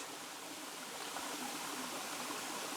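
The Kbal Spean river flows steadily over rocks as a soft, continuous rushing wash with no distinct splashes and no voices.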